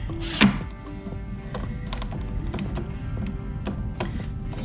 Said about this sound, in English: Well, let's say you're clamping these two boards together.